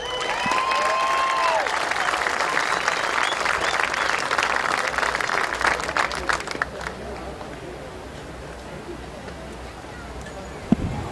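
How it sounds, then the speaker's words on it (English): At Midvale Speedway in Pennsylvania, a crowd gives loud, sustained applause for three Hall of Fame inductees. The clapping rolls on for several seconds, then thins out and fades to quieter crowd ambience. "how about a big round of applause for these three gentlemen inducted into the Midvale Speedway Hall of Fame"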